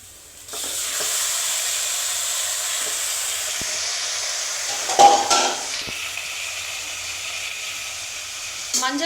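Mutton pieces dropped into a hot pan with ginger garlic paste and oil for mutton curry, a soft start swelling into a steady loud sizzle with a few stirring clatters.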